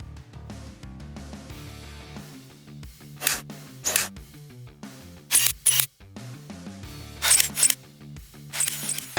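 A pneumatic brad nailer fires into a shop-built miter saw table frame, fixing T-track tops with glue: sharp snapping shots, mostly in quick pairs, punctuate steady background music.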